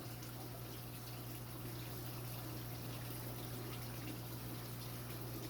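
Aquarium tank waterfall, a faint continuous trickle of running water with a steady low pump hum beneath, unchanging and alone.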